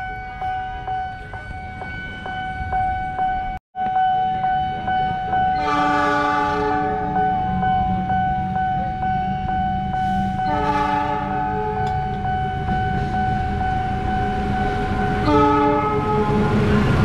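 A train at a closed level crossing near Bogor Paledang station in Indonesia sounds its horn in three loud, separate blasts over a continuous heavy rail rumble.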